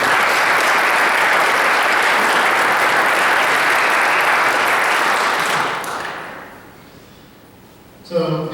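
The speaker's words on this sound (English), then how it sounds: "So just a quick round of applause for those guys." An audience at an evening community event in Piqua claps in a loud, dense round of applause that swells steadily, then dies away, followed by a brief thump.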